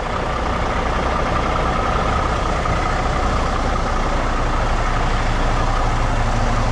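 A truck's engine idling steadily in cold weather, a constant low rumble with broadband noise that holds unchanged and fairly loud throughout, no voices.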